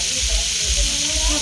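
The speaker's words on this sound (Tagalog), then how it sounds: "Tayo naman po ngayon na magpiprito ng manok." Chicken pieces frying in hot oil at home, a steady close sizzle with soft bubbling that stays even throughout, no talking over it.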